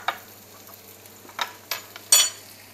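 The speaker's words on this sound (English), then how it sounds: "And give it a good stir and mix." Spoon stirring Demerara sugar into a cooking pan, a few soft scraping strokes close by with brief louder clinks and rasps toward the end, no talking.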